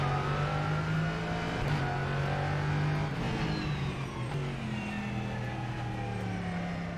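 A race car engine revs and roars steadily at close range, with a continuous droning note that shifts pitch slightly over several seconds and no talking.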